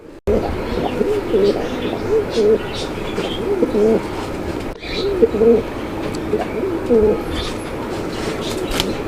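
Magpie Danish pigeons at a pigeon farm cooing in low, repeated throaty bursts close by, with faint background chatter and a brief break midway.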